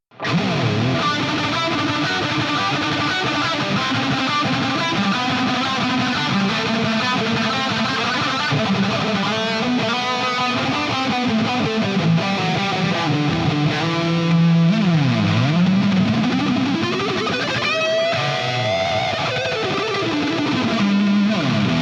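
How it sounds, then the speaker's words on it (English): Heavily distorted metal electric guitar through a delay plugin plays continuously with smeared, echoing repeats and swirling pitch sweeps, loud and dense throughout, with no voices. "I'm going to apply the delay plugin to that track, and it's gonna sound like this."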